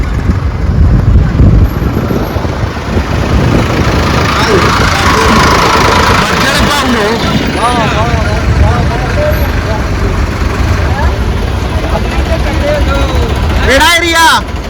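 Steady rumble of several tractor engines idling nearby in a convoy with trailers, headed for Delhi, loud and continuous, with voices talking over it throughout.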